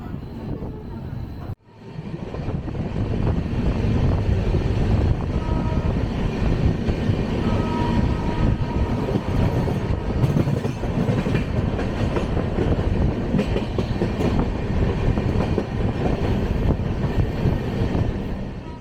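Coalfield Superfast Express (12340) running on rails between Durgapur and Panagarh, a steady loud rumble of wheels and carriage noise throughout after a brief dip near the start, heard from inside the train.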